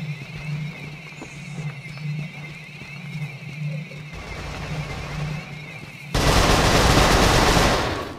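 Gunfire in the Resistance 3 beta, a game firefight with rapid bursts of shots under a steady drone, ending in a loud, dense roar of sustained fire over the last couple of seconds.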